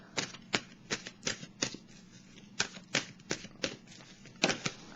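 Oracle cards from the Intuitive Soul oracle deck being shuffled by hand, a close, crisp run of about a dozen quick riffling bursts in an uneven rhythm, with no talking.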